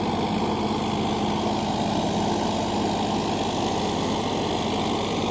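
A Farmtrac 60 Supermaxx 55 hp tractor, 2021 model, runs with an 11-tine cultivator after its engine speed is lowered to about 1600 RPM, giving a steady, close diesel drone with constant low rumble and no talking.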